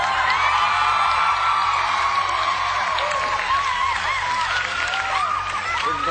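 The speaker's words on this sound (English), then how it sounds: "Listen to them scream." A TV talent show studio audience screams and cheers loudly without pause, mostly high shrieks and whoops from a large crowd, with applause mixed in.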